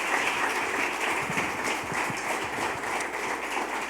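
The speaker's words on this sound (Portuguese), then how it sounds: "Dê uma salva de palmas a Jesus." A church congregation applauding during a celebration service, steady dense clapping throughout with a broad wash of sound and no voices over it.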